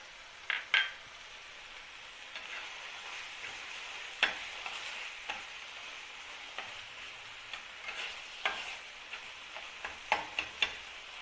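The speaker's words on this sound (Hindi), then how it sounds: "शिमला मिर्च, टमाटर और प्याज, इनको अब हमने भून लेना है सबको।" Capsicum, tomato and onion sautéing in a pan with ketchup, a quiet steady sizzle broken by scattered clicks and scrapes of a spoon stirring against the pan.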